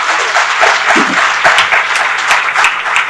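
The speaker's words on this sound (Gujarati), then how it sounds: "જોરદાર તાળીથી વધાવીએ." An audience at a talk on laughter and happiness claps loudly, a dense steady roar of applause close and sustained from start to finish.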